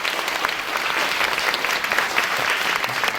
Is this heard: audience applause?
yes